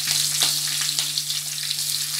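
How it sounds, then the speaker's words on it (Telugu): Tempering spices, curry leaves and green chilies fry in hot oil for a broad bean stir-fry, giving a steady, close, bright sizzle with small crackles and no talk. "తాలింపు దినుసులు వేగిన తర్వాత"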